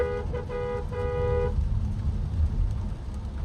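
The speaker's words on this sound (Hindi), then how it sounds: "तो कुछ ऐसी है हॉर्न की पिच, आप सुन लो।" A Renault Duster horn sounds in short bursts, three or four toots followed by a longer blast, over steady road and engine rumble while driving.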